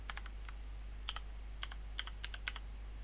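Quiet close-up typing on a computer keyboard, clusters of soft key clicks in an uneven rhythm over a low steady hum.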